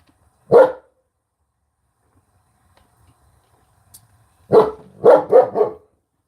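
Dogs inside a house bark at a car parking out front: one loud, close bark, a pause, then a quick volley of four barks, with near silence between.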